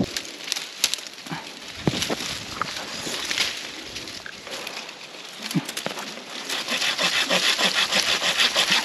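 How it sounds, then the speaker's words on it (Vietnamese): Handsaw cutting through a tree branch outdoors, with a run of uneven rasping strokes that grow faster and more regular toward the end, fairly close and loud, with no talk. "chắc mình phải cưa cây"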